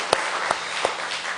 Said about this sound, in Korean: 격려박수 한번 힘차게 해주시기